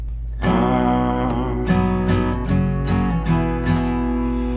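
A guitar plays the repeating main theme of a song, single notes and chords ringing out one after another over a low steady hum.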